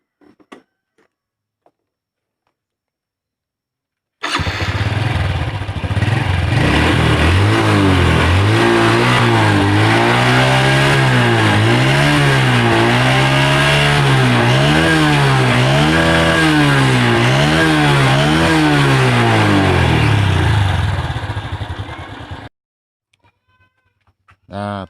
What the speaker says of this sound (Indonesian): uji coba motor ini apakah sudah mau hidup atau belum setelah dilakukan pergantian pulsernya